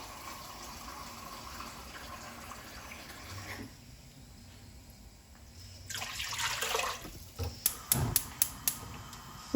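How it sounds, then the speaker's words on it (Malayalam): Water runs into a pressure cooker for beef biryani with a broad splashing rush for a couple of seconds, followed by a few sharp clinks and knocks. "നാലര കപ്പ് വെള്ളം ചേർത്ത് കൊടുക്കുക"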